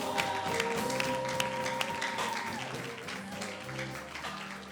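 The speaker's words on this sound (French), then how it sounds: "Les acclamations." Church congregation at a ministerial ordination service applauds with acclamations, a steady wash of clapping mixed with sustained tonal voices or music underneath, fairly loud throughout.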